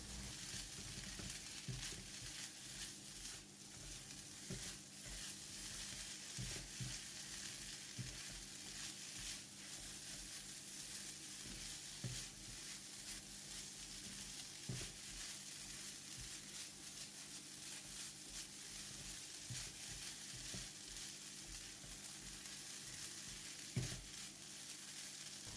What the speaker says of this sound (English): Give it a stir for about 30 seconds or until rice and seasonings are well combined